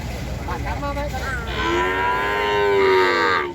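Water buffalo at a Thai cattle market in Ban Khwao, Chaiyaphum, giving several deep, drawn-out lows close by, with a long sustained call swelling and then breaking off near the end.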